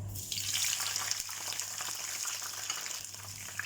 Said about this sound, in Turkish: Şimdi biberlerimizi kızartıyoruz.